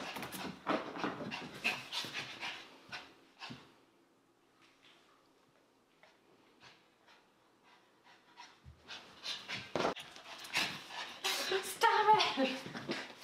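A dog pants rapidly up close, in quick rhythmic bursts that fade during a quieter stretch before returning stronger and more frantic.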